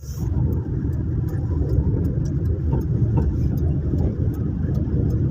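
A car drives along the Noida Expressway in India, with a steady low engine and road rumble heard from inside the vehicle, continuous and fairly loud, with no talking.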